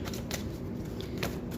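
Tarot cards are shuffled and drawn by hand, giving a soft continuous riffling with a few sharper snaps of cards sliding out, close and quiet with no talking.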